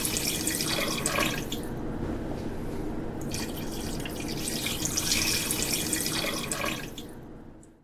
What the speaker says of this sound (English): Next, we're going to add 2 cups of water.